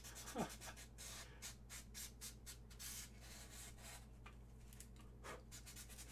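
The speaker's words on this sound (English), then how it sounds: "I'm just folding the sandpaper and sliding it through the gap to get all the rough edges out" Folded sandpaper rubbed back and forth through a narrow gap in a plastic model tank kit, a run of soft rhythmic scraping strokes, close and quiet, with no voices.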